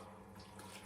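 Wort trickles steadily during recirculation in a home brewing setup for a session stout, a faint, continuous light splashing with no talk over it.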